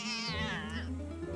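A cat in the video game Hero-U gives a single clear, drawn-out meow, close and fairly loud, with a low steady hum beneath it.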